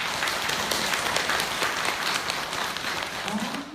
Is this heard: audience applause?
yes